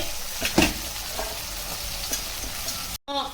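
Potato, brinjal and carrot pieces stirred with turmeric in a hot pan for curry, a soft scraping sizzle with a couple of louder stirring scrapes, close and steady, ending in a brief cutoff.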